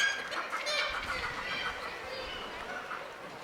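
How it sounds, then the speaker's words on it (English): A noisy crowd of common seagulls in Iceland squawks and cries continuously in the background, with some talking mixed in. "I think those are just common seagulls making all the noise"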